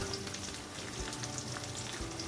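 Sliced onions frying in a pan of oil for restaurant-style chilli chicken give a steady, dense sizzle that crackles throughout, loud and close with no pauses.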